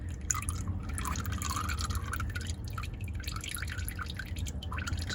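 Engine oil draining from a third-generation Honda Fit during an oil change, a continuous close trickle and patter of liquid with irregular drips, steady throughout with no talking.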